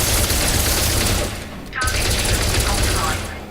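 Rapid, continuous turret fire from an SRV in Elite Dangerous shooting at a skimmer, a dense mechanical rattle that runs loud and steady with one brief pause midway.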